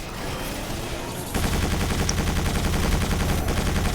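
Turret machine gun fire in the Quake 4 shooter, a loud sustained stream of rapid rhythmic shots that kicks in after a softer opening and keeps pounding to the end.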